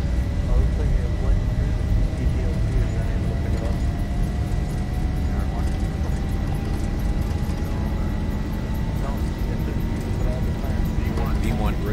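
A Zibo Boeing 737 roars down the runway on its takeoff roll in the X-Plane 11 flight simulator, a loud steady engine drone with a slowly rising whine, while pilots call out speeds over it.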